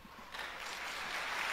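An audience applauds in a hall, the clapping swelling from a modest patter into a steady, dense wash. No voices are heard over it.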